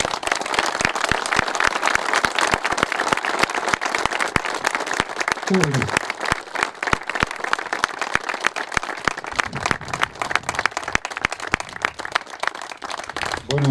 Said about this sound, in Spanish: hagamos un gran aplauso.